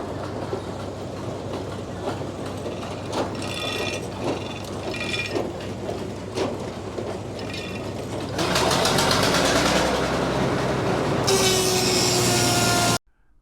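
A Frick sawmill shaves the side of a log cant: a steady mechanical rumble with clicking, then a much louder, dense whine as the blade cuts through the wood, ending abruptly.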